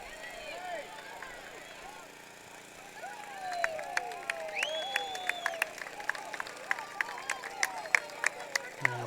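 A soccer match crowd on the Pella side breaks into scattered applause, with sharp individual claps growing busier and louder over several seconds above a faint murmuring background.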